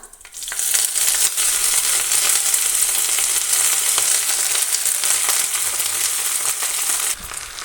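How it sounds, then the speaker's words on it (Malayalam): Fresh drumstick leaves hit a hot pan with curry leaves and fry with a loud, steady sizzle that starts abruptly and holds unbroken for several seconds, with no talking. "ഇനി ഇതിലേക്ക് നമ്മൾ കഴുകി വൃത്തിയാക്കി വെച്ചിരിക്കുന്ന മുരിങ്ങയില ചേർത്ത് കൊടുക്കാം"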